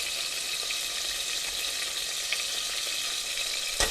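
Desi ghee heating in a cooking pot for aloo mutton gosht, giving a steady close frying sizzle with light stirring, ending in a brief clatter.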